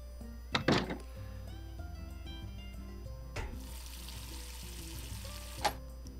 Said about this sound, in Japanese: トイレだな。